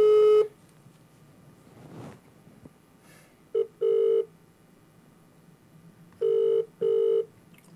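Telephone line tones after a caller hangs up: a short beep, then two more pairs of loud, steady electronic beeps separated by silence, each pair evenly spaced.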